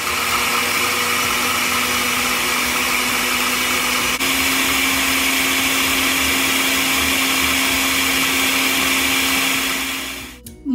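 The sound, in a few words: blender grinding tomato, garlic and peanut salsa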